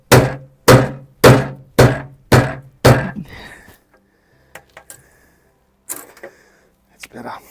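Six heavy, evenly spaced thuds as a stepping stone is banged down to level it in a garden pathway, loud and close, followed by a few lighter knocks and scrapes.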